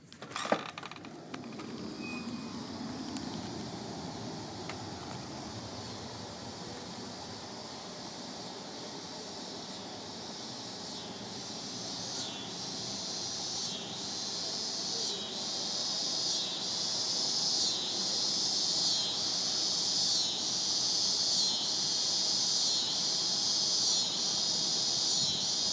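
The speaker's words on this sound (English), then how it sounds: "I want you to hear the cicadas." Cicadas droning outdoors on a summer day, a loud sustained buzz that swells gradually and develops a rapid pulsing rhythm over the second half, with a faint hum of surroundings beneath.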